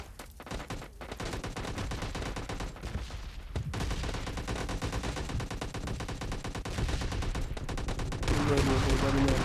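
Dense, rapid automatic gunfire from the video game PUBG Mobile Lite keeps going across the clip, with bursts that grow louder toward the end and a player's voice talking over the shooting.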